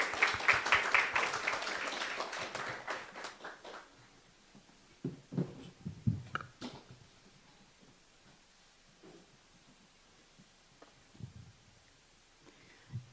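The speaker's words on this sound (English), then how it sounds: "Please give a big round of applause for Srimati Anushri." Dense audience applause in a hall at a business forum chapter meeting, loud at first, then thinning out into scattered claps and rustling, with faint murmurs and background noise as the room settles.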